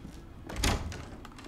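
A door opening inside the survival horror game Resident Evil 7, a single short thud with a brief creaking swell near the middle, over quiet game ambience.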